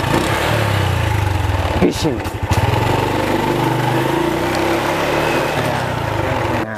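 A motorcycle engine runs steadily and fairly loud throughout, with a brief uneven rev partway through, while a voice speaks over it.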